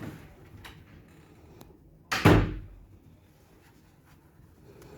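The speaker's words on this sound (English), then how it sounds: "Should I close the door?" A door is pushed shut with a single solid thud midway through. Quiet room tone and a few faint clicks come before and after it.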